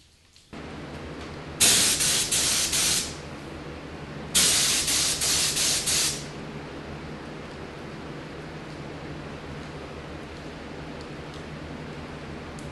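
Spray gun laying clear coat onto a Jeep Grand Cherokee bumper, with two loud, close hissing bursts of a couple of seconds each over a steady background hum, and nobody speaking.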